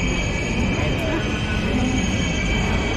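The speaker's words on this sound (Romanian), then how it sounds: "Urcăm un alt tren către Amsterdam" A train bound for Amsterdam rumbles with a steady interior drone and a thin high whine, continuous and close throughout.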